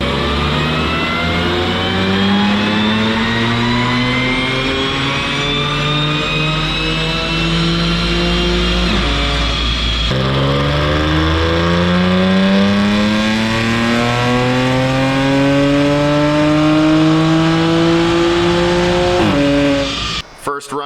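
An Audi B8 S4 with an Integrated Engineering Stage 2 dual pulley tune revs hard on a dyno, its engine note climbing steadily through a long pull, a brief gear change, then another rising wail before cutting off abruptly.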